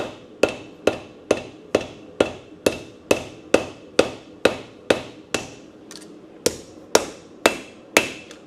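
A blacksmith forging metal on an anvil, with about sixteen loud, ringing hammer blows struck at a steady, even rhythm, each one sharp and close and followed by a short decaying ring.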